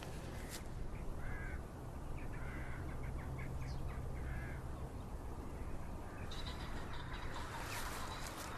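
A large flock of crows gathers at November twilight over Norfolk farmland, with many distant caws layered into a steady, faint chorus that carries on without a break.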